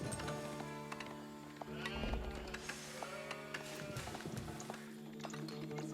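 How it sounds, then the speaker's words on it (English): Sheep bleat in a game scene over a busy bed of clattering hooves and soft effects, fairly quiet overall. "It's just found a shitload"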